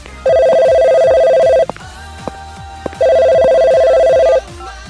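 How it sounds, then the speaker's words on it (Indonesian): A telephone gives two long, loud electronic rings separated by a pause, steady tones over a faint repeating tick in the background. "Saya mau angkat telepon dulu ya."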